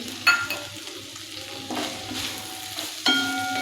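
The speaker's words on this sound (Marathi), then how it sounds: "कूट टाकला की मिक्स करून घ्यायचा आहे" Roasted peanut powder stirred into a field bean stir-fry, with a few spaced scrapes of a spoon against the pan over a low, steady frying sizzle, no talking.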